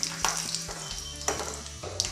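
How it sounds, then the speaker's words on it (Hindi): Dried curry leaves sizzle and crackle in hot oil in a pan for a tadka, with a steady frying hiss, sharp pops and some stirring clinks. "इसी में हम डालेंगे ये 2-4 कड़ी पत्ते जो कि मैं सुखा करके रखी हूँ और इसे भी भून लेंगे।"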